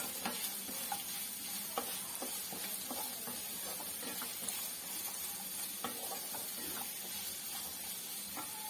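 Long sliced onions sizzle steadily in a hot pan for a soy chunk curry, with a constant frying hiss broken by frequent scraping stir clicks of a spatula, close and without talk.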